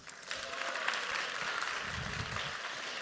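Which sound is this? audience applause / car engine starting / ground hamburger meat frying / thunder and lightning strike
audience applause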